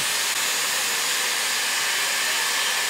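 A Dyson Airwrap hair styler blows a steady, loud rush of air that holds constant and alone, with no breaks or talk.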